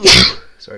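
A single sharp sneeze bursts out close by during a casual gaming commentary session, followed by a brief pause and a quick spoken apology.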